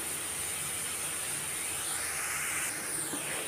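Onions sauté in a pan for a Kerala-style mackerel fish dish, giving off a steady, even sizzle and hiss that runs unbroken from start to finish, close and moderately loud with no talk.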